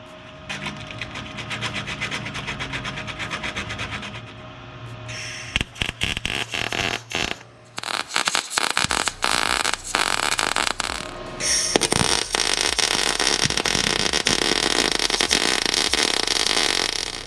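MIG welding on a 2017 Toyota Tacoma front body mount produces bursts of loud, crackling sizzle, stopping and restarting several times, with near silence in the gaps and a longer steady buzzing run toward the end.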